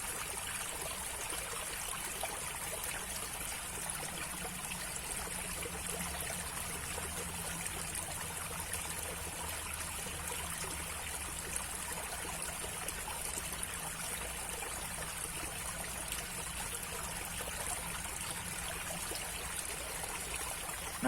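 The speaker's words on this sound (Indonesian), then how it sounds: "supaya teman-teman juga bisa mendengarkan suara gemericik air" Water trickles from a small spring at the edge of a pond, a faint, continuous babbling and splashing wash with no voices.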